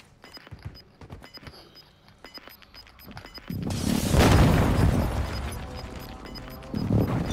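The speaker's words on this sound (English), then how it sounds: "Hostile airstrike near your location." Airstrike explosions in the video game Warzone 2: after a stretch of scattered taps and thuds, a heavy booming blast rolls in and rumbles on, followed by another loud impact near the end.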